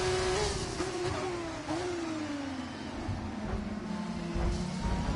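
Formula 1 race cars in the F1 24 video game, engines whining and revving close by as one car overtakes another, a steady high mechanical drone with shifting pitch and brief gear changes.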